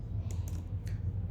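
Code being typed on a computer keyboard: a few quick, soft key clicks in a short burst over a low background hum, close and quiet.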